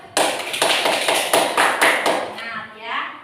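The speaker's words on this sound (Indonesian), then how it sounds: "Tepuk tangannya." A group claps together in a classroom, about six loud, evenly spaced claps in unison that stop abruptly and give way to faint room noise.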